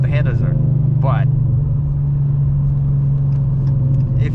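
A car engine fitted with BBK long tube headers idles with a steady, loud low rumble and slight throb, holding an even drone throughout.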